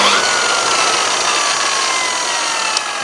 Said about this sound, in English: Test two, old-fashioned 240-volt circular saw.